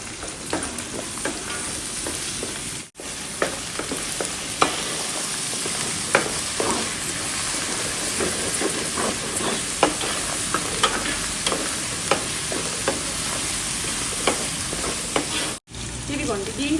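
Onion paste sizzles and fries steadily in a pan while a spoon stirs it, with scraping clicks scattered over a continuous close hiss.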